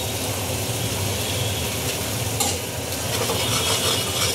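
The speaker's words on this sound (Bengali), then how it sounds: "ভালো করে কষিয়ে নিই।" Spiced chickpea ghugni masala with garam masala and black salt being stir-fried in a pan, a steady close sizzle with scraping stirs throughout and no voices.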